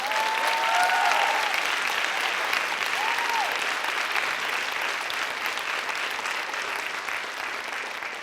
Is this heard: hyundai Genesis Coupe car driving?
no